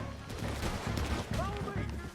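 Gunfire in a shootout in the Western video game Red Dead Redemption 2, with loud bursts and shots overlapping shouted voices and a busy, dense battle mix throughout.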